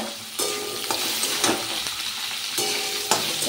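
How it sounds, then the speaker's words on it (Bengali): Potato, radish and eggplant frying in a pan, a steady close sizzle with scraping stir strokes through it and a few sharper clatters of the spatula. "চলো এটা একটু ভালো করে ভেজে নিই এখানে"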